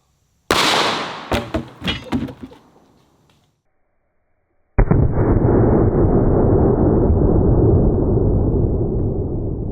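A shotgun fires double aught buckshot at a bulletproof helmet in an outdoor range test. One sharp, loud blast comes first, followed by rapid crackling echoes. After a silent gap, a steady broad rush of noise begins.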